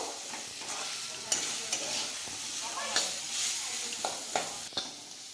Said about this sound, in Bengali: ডালটা খুব ভালো করে ভেজে নেব